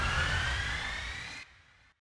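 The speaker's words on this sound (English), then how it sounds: "That one sounds like a siren." A siren-like trailer sound effect from the Kontakt library Instinct: a rising synthetic tone sweeps upward over a heavy low rumble, then cuts off abruptly into a brief fading tail.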